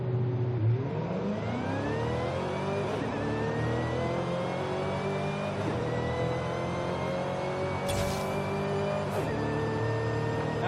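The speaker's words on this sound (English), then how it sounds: "More pronounced supercharged sound." A stock supercharged Mustang Terminator Cobra in Forza Horizon 5 accelerates hard down a quarter-mile run, its engine revving up through several gear changes with a loud, continuous whining roar.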